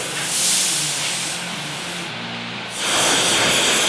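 A self-contained welding torch hissing while a heart-bar insert is welded into a horseshoe, a steady close rushing hiss that briefly dips and then returns louder, with no talk.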